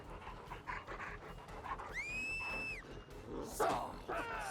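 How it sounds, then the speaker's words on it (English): A hound in the horror game Dead by Daylight pants rapidly and steadily, joined by a rising whine-like tone and scuffling game noise, fairly close and prominent throughout. "there's a dog"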